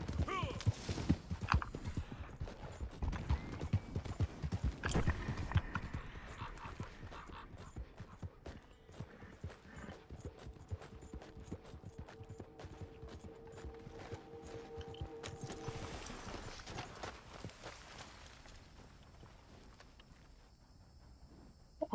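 Horse hooves gallop in Red Dead Redemption 2, with rhythmic clip-clop beats that are loudest at first and then settle into a steady, fainter patter under game ambience and occasional talk.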